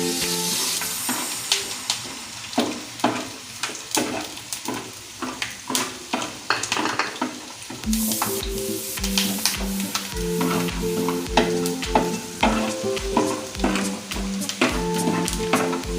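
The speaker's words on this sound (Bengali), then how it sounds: "এখানে বাদাম ভাজা চলছে।" Peanuts frying in hot oil and being stirred, a continuous close sizzle with repeated scraping strokes of the spoon, while music plays underneath.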